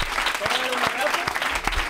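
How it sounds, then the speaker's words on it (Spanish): Studio audience applause on a Spanish comedy talk show, a brief burst of steady clapping that fills the clip, with talk mixed in over it. "Pues un aplauso para ella."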